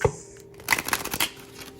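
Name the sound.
shuffling a deck of cards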